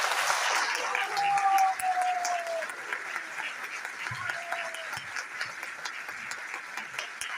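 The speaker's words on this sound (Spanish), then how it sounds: "todo el mundo me aplaude con ovación" Audience applause and ovation for a speaker, a theatre director and actress, at a public-speaking session: steady crowd clapping throughout, swelling early then continuing slightly softer, with a brief voice or whistle-like tone over it.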